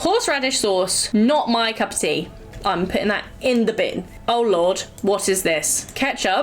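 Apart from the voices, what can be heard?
No everyday noise stands out behind the speech.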